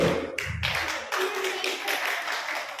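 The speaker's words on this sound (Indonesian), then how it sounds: "Bagi dia tepuk tangan ya" A crowd claps steadily for a few seconds at a church Christmas celebration, with a voice speaking briefly at the start.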